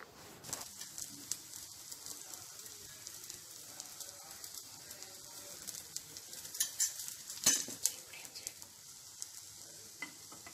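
Bread coated with besan (gram flour) batter toasting on low flame in a pan, giving a soft, steady sizzle with faint crackles, no voices.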